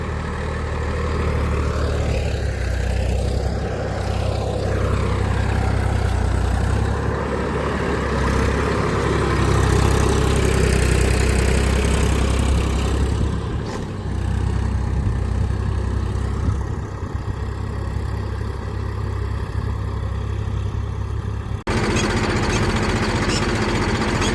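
A tractor engine runs steadily while ploughing a field, a loud continuous low drone with slight shifts in load throughout, ending with a sudden change near the close.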